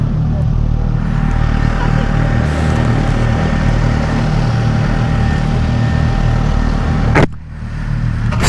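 A 2020 Suzuki Katana motorcycle rumbles loud and close at a steady pitch under riding wind noise, then the engine note drops off abruptly near the end as it eases back.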